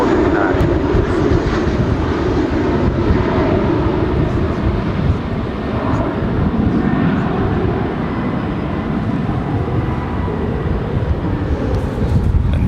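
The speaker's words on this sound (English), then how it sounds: "American 737 taking off on 18 left." An American Airlines Boeing 737 takes off from runway 18 left at Dallas–Fort Worth International Airport, a loud, continuous jet roar that stays strong and broad throughout.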